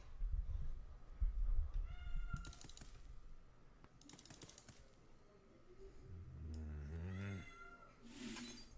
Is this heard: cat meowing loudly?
yes